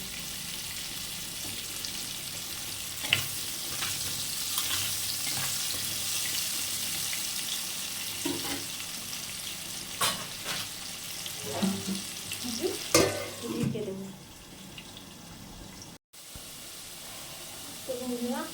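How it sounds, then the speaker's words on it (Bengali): Oil sizzles steadily as potatoes fry in a covered pan, with occasional scraping and clinking of a utensil stirring and a brief voice near the end. "আমি এটাকে ঢেকে ঢেকে ভেজে নেব"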